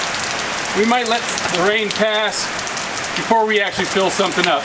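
Heavy rain pours down steadily on a ranch, a dense, constant hiss that carries through the whole stretch while someone talks over it.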